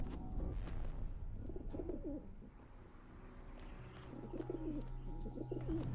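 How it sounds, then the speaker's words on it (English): Pigeons cooing in The Talos Principle video game, soft repeated coos at moderate distance over a low ambient rumble, alone without talk. "And I can hear pigeons."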